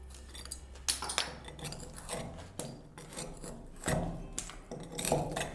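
A chisel pries a cut section of silicate block out of a wall chase in a new-build flat, giving scattered gritty scrapes and a few sharp crumbling clicks and knocks at close range, with no talking.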